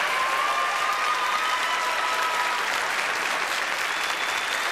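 Steady, dense applause from a large audience fills the whole stretch, loud and even without letting up.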